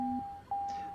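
Cockpit aural warning alarm in a TBM aircraft in Microsoft Flight Simulator 2020: steady electronic tones, a lower beep cutting off, then a sustained higher tone continuing alone.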